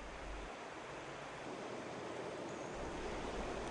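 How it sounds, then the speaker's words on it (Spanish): The Esla river flows with a steady, full broadband rush of water that holds an even level throughout, with no voices. "El agua se serena y canta el río."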